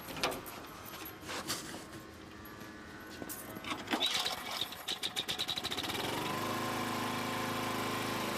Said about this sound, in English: At the start of the operation, the smoke blower is located over the manhole.